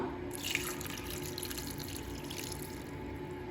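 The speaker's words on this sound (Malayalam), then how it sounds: "ഇതിലേക്ക് 1/2 ഗ്ലാസ് വെള്ളം ഒഴിച്ചു കൊടുക്കാം." Half a glass of water pours onto cut mango pieces in a cooking pot, making a steady, close splashing trickle that runs throughout.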